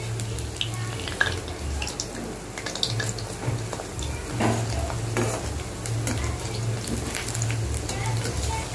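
Pakoras fry in oil in a kadhai over a medium-low flame, giving a steady bubbling sizzle with stirring and clinking close by, and a low hum running underneath.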